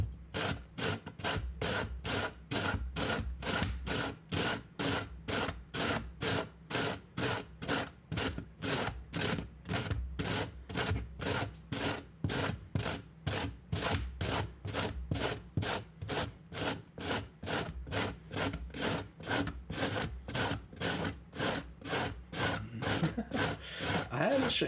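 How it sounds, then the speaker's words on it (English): Food rasped steadily against a box grater, a fast, even run of rough scraping strokes repeating about twice a second, close and loud throughout. "Okay, so I've got this box grater, and all I'm gonna do is grate this thing."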